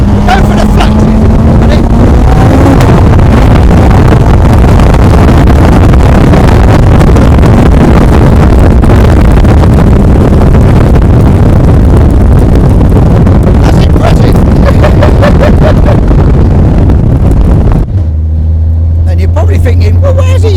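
A Hayabusa-engined Cup 200 race car accelerates hard using a flat-shifter, its engine a loud continuous roar with wind buffeting across the microphone for most of the run before the noise cuts down to a lower steady drone near the end.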